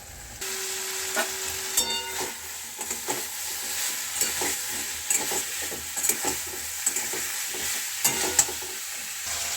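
Cauliflower and potatoes being sautéed in a pan, a close hissing fry with repeated rhythmic spatula scrapes and taps, moderately loud and steady.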